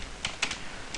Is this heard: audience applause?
no